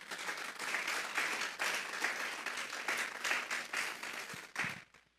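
A church congregation gives the Lord a strong round of applause during a sermon on Psalm 47, dense steady clapping that fills the room for about five seconds before tapering off at the end.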